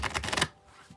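A tarot card deck being shuffled gives a quick, close burst of papery riffling clicks, then drops to near silence.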